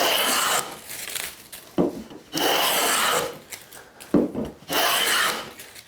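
Hand plane shaving the edge of a wooden board toward square, three long rasping strokes with brief pauses between them, close and clear with no talk.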